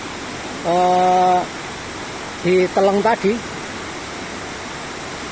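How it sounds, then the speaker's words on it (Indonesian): Water from an underground river at Pracimantoro rushes in a steady, broadband roar, loud and constant throughout, with someone speaking briefly over it. "air yang ada di sini banyak yang mengalir ke pantai selatan"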